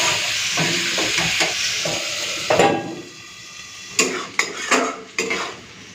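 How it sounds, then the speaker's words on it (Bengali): Bitter gourd and potatoes hit hot oil with a broad hissing sizzle, followed by sharp metallic clinks and scrapes of a utensil stirring in the pan, loud and close. "তেল গরম হয়ে গেছে, এখন দিয়ে দিচ্ছি উচ্ছে আলু"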